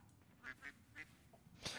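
Brown and white ducks in the Coral Island farming game give several faint, separate quacks at an even pace, with a slightly louder call at the end.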